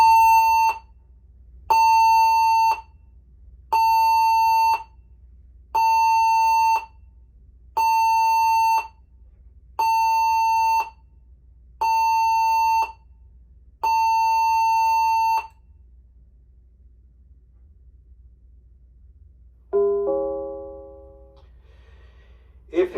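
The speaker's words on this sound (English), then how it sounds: "If you hear the previous emergency alarm sounded, proceed directly to your assembly station." Emergency alarm aboard the cruise ship Serenade of the Seas: seven long, loud beeping blasts in a steady evenly spaced pattern, then a brief chime-like tone near the end, with quiet background hum between blasts.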